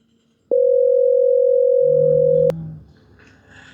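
A steady telephone dial tone sounds loud and alone for about two seconds while a call is placed, then cuts off abruptly, leaving faint background rumble and low noise.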